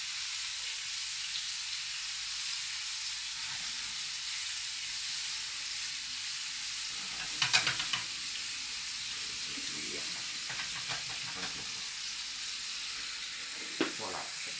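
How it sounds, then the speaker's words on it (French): Mushroom garnish stirs in a sizzling frying pan alongside pork chops, a steady hiss of frying with scattered sharper scrapes and clinks from a utensil midway through. "Et là, on va mélanger la garniture."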